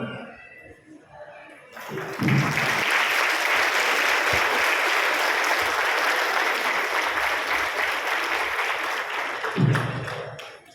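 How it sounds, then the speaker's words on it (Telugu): Sustained audience applause fills a hall after a spiritual discourse, steady and loud for several seconds, then tapering off with a brief burst near the end. "అయిపోయింది, చప్పట్లు కొట్టండి. నేనేం చెప్పలేదు, మీరే కొట్టారంటే ఎంత బాగుంది"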